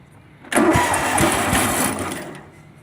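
A Massey Ferguson 8 Hydro garden tractor's engine cranks and catches, then runs loud and steady on its own before easing off slightly toward the end.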